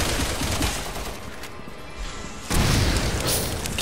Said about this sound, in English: Now I'll just try to use my grenade launcher.